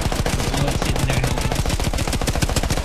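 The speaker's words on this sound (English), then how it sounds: "I'm supposed to move up while shooting." Rapid automatic gunfire in the video game Battlefield 1 while advancing, a dense, loud, unbroken burst of evenly spaced shots lasting the whole clip with no talk.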